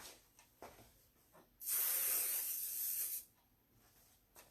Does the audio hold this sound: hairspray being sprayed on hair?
yes